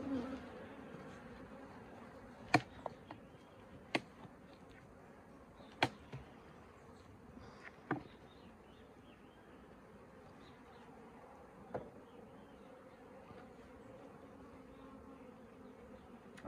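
Honeybees hum softly inside a hive as they move between honey supers, a low continuous buzz broken by a few sharp clicks and knocks of handling.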